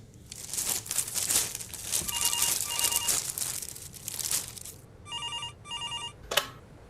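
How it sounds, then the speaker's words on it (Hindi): A home telephone rings in two short bursts, a clear electronic trill, after several seconds of crinkling and rustling noise close by, as of a polythene bag. "तभी घर का टेलीफोन बजा।"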